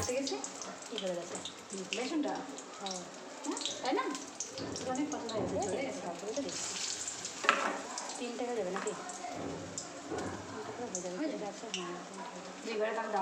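Pointed gourd slices coated in gram flour batter fry in hot oil, giving a soft, continuous sizzle with scattered pops. Someone talks over it throughout.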